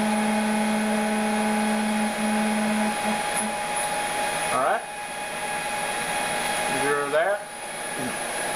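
6040 CNC machine table jogging under Mach3 control: a constant electronic whine and hum, with two short rising-and-falling stepper motor sweeps as the table moves, close up.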